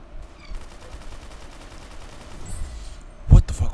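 Gunfire in the Roblox shooter Arsenal, a quick burst of shots close and loud near the end following a stretch of faint rattling background game noise, with a voice speaking over it.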